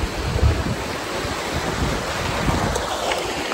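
A river runs forcefully past at a reservoir site, a steady, loud broadband rush of churning water with wind buffeting the microphone and no voices.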